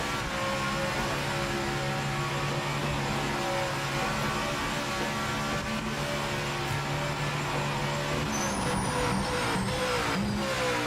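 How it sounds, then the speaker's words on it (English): A Cadillac GT3 race car in Project Motor Racing drones steadily at high revs, a constant engine tone holding near and loud with a pitch change near the end. "The audio of the Cadillac is completely different now. It sounds so much more real to the real car."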